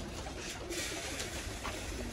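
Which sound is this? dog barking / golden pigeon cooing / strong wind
golden pigeon cooing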